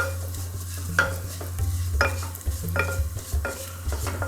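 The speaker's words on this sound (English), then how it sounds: "that's the sound you want to hear, that sizzling." Vermicelli sizzles steadily in a pan while a utensil scrapes and stirs in repeated strokes, with a low hum underneath; the noodles are being toasted for Syrian rice with vermicelli.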